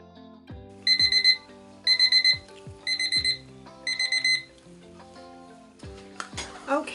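A kitchen timer alarm goes off after five minutes of stirring resin, sounding as four bright bursts of rapid beeping with short pauses between them, followed by some clatter and rustling.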